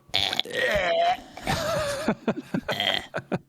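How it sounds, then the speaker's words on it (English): Actors in a dubbed scene let out a string of short, thin burps and throaty grunts, close and clear, several separate bursts with brief pauses between them. "Such pity little burps."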